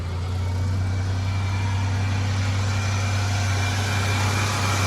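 A Cadillac Deville with a swapped-in 3800 engine idles steadily nearby, a constant low hum with a rough, even drone and no talking over it.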